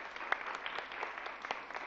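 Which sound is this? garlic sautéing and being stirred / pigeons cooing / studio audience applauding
studio audience applauding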